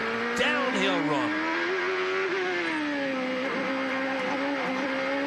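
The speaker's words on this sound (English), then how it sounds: "You can still hear the bottom of the car rub the ground." A 1992 race car at Mid-Ohio brakes and runs over a hill, its engine note dropping and then holding a steady drone, with rough rasping where the underside scrapes the ground, close and loud under a commentator's voice.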